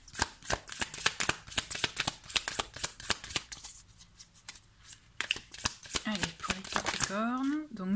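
Oracle cards being shuffled by hand, a rapid close run of riffling snaps that pauses briefly, then a voice speaking near the end.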